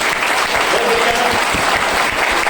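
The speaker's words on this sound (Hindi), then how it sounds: "मनीष जी के लिए ताली थोड़ी अलग से बजानी पड़ेगी सर" An audience at a meeting gives loud, sustained applause for Manish, dense continuous hand clapping close by, with faint voices underneath.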